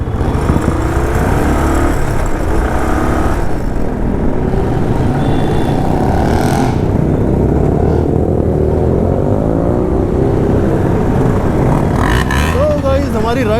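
Several motorcycles idle and rev as a Sunday group ride gets underway, a steady engine rumble filling the whole scene with people talking over it.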